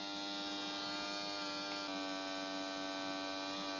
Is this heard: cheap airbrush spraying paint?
yes